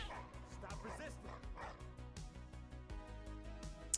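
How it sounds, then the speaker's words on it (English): A police dog in the Scene Investigators video game barks and yips in quick bursts, mixed into dense game audio with music and voices talking throughout. "That barking usually means drugs."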